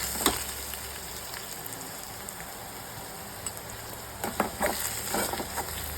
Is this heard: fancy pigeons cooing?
no